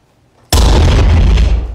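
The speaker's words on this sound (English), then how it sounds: "That explosion." A sudden loud explosion bursts in after a quiet moment, a close, heavy boom with a broad roaring blast that sustains and slowly tails off, with no talking.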